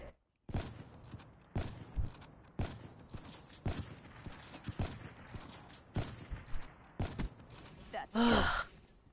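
Repeated gunshots from Black Ops 2 in a one-on-one match, sharp reports spaced about a second apart throughout, with a breathy vocal sound near the end.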